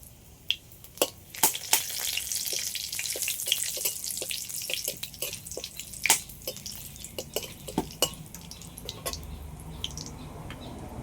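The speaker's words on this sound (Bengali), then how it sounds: "এই লঙ্কাটা দিয়ে দিচ্ছি তেলের উপরে তেজপাতা" Slit green chillies and a bay leaf hit hot mustard oil, giving a close, crackling sizzle packed with sharp pops and spits that spike irregularly and gradually settle.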